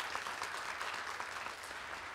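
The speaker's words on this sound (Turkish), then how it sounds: "Alkışlarınızla." Audience applauding a winner at a Mevlid recitation contest, a steady, fairly distant wash of many hands clapping that carries on evenly without voices.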